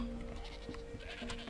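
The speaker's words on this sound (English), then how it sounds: "Goat, goat, goat, goat, goat." Goats in the video game Dawn of Man bleat faintly amid soft ambient game sound, a few short calls over about a second and a half.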